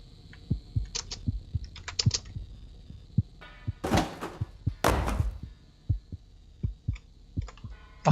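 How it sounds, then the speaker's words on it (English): Slow, regular thumping heartbeat in the horror game The Cat Lady, pulsing steadily throughout, with eerie tonal drones and two louder noisy swells partway through. "That heartbeat is freaking me out."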